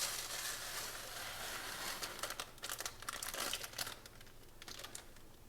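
Dry tarhonya egg barley pasta pours into a hot pan of melted butter over high heat, giving a steady crackling rustle with a burst of sharper crinkly clicks in the middle, close up with no talking.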